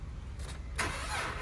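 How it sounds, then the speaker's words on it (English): A Dodge Charger with a questionable battery cranks briefly and then catches, a quiet churn followed by a sudden louder broadband burst as the engine fires, with no talk. "So, we're gonna start the car now."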